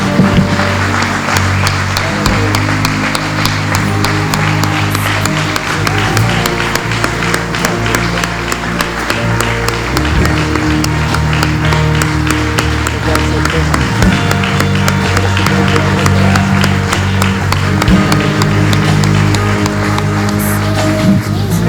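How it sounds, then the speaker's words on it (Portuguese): Church congregation applauding during a worship service, sustained loud clapping from a crowd over music with instruments and voices, continuing unbroken throughout. "pode aplaudir o Senhor?"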